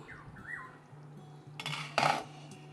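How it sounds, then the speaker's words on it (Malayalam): A metal pan goes down onto a stove with a sharp clank, followed by a second louder knock of metal on metal, close by in a quiet kitchen with a soft hum behind. "ഞാൻ ഇത്തേലൊരു പാൻ വെച്ച് കൊടുത്തു"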